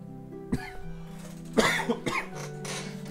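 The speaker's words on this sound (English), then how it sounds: "Okay, sorry for that coughing" A person coughs several times in short harsh bursts, close and fairly loud, with brief pauses between them over a faint steady background.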